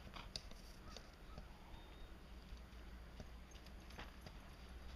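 Horse hooves clip-clopping in a steady, moderately faint rhythm of soft knocks over a constant outdoor background hiss, with no talking.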